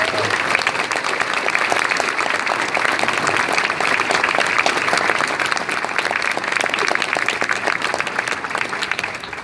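Sustained applause from a large crowd fills a send-off ceremony for an Honor Flight, a dense, even clapping that holds steady throughout at close range.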